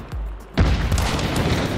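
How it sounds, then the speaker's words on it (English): A gunshot in the video game Hunt: Showdown bursts into a loud, heavy boom partway through, following a softer low thump and trailing off in a rolling rumble. "We both shot him when he was on fire."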